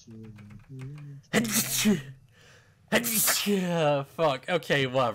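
A single sharp sneeze bursts out during casual gaming chatter, loud and close, set between stretches of conversational talk.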